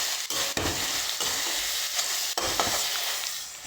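Noodles and soy sauce stirred in a hot pan give a steady close sizzle, with spatula scrapes and knocks breaking through the frying hiss and no voices.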